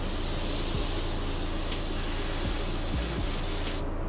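Spray gun laying a wet coat of blender onto a car door near the fender, a steady close hiss of atomized paint running throughout with brief changes near the end.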